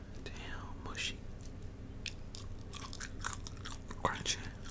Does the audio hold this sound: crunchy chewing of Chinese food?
yes